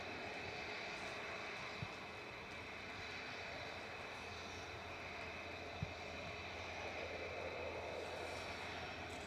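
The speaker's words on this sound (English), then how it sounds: "Touching down now on 23 right is Ryanair 6597 from Barcelona, EFH 737-800" A Ryanair Boeing 737-800 touches down on runway 23 right at Manchester Airport, a sustained far-off jet roar with a steady whine, fairly faint and even, with two tiny clicks and no talking.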